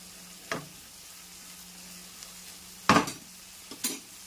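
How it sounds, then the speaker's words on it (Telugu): Onions frying with salt in a pan while masoor dal coriander soup is prepared, a low steady sizzle broken by a few sharp clinks and scrapes of stirring. "ఇప్పుడు కొంచెం ఉల్లిపాయలకి సరిపోయినంత వేయాలి ఉప్పు. కొంచెం ఇలా వేగుతున్నాయి కదా,"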